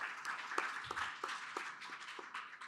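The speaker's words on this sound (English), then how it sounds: "Thank you so much for that applause." Applause from a panel-discussion audience, a steady wash of many hands clapping at moderate distance, fairly quiet and continuous with scattered sharper claps standing out.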